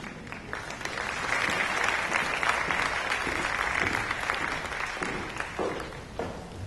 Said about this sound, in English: Let's have another round of applause for the fifth grade choir.